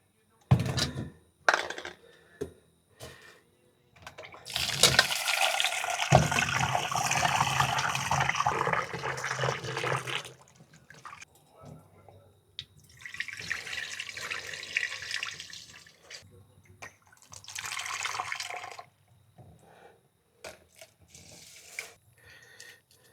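Water runs from a tap into a sink at a campsite in Lian, Batangas, a close steady gush in two long bursts and a shorter one, with clicks and handling noises between.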